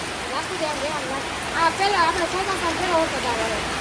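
The first heavy monsoon downpour hammers down near a petrol pump, a dense and continuous rushing hiss of rain, with voices talking over it.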